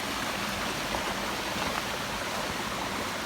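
Steady rushing water flows continuously through natural forest, a dense, even babble like a nearby stream with no voices.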